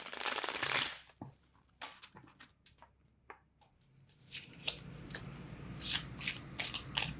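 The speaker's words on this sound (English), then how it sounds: "gotta make sure I'm shuffling" A deck of oracle cards being shuffled by hand, with a burst of riffling at the start, scattered soft taps, then a longer stretch of dense card shuffling, close and fairly loud, with no talking.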